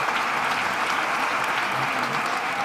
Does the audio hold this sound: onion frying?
no